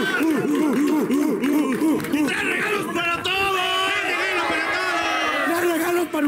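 A television studio audience cheers and whoops loudly for a guest on a variety show, a dense, continuous crowd roar with shouting voices rising and falling over several seconds.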